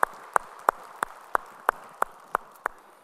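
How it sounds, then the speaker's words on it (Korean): A church congregation claps in an even rhythm, about nine sharp claps at a steady pulse, moderately distant with no talking over them. "우리 찬양 받으실 주님께 영광의 박수 올리겠습니다"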